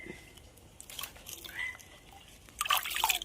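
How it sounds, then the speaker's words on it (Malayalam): Potassium permanganate solution mixed in water being poured out in a cowshed, a faint trickling and dripping with a few louder splashes near the end, no talk. "കുറച്ച് വെള്ളത്തിലോട്ട് ഇട്ടു. അതിന് കലക്കിയിട്ട് നമ്മൾ തൊഴുത്തിനകത്തേക്കെല്ലാം ഒഴിക്കാൻ പോവുക, തളിക്കാൻ പോവുക"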